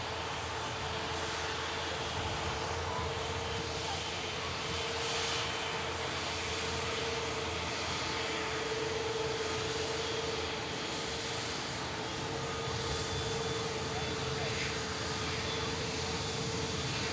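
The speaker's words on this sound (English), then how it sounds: "Truly beautiful Airbus A350 in the Virgin Atlantic livery." A Virgin Atlantic Airbus A350 gives off a continuous, even roar of jet engines at a distance, with a faint steady tone running through it.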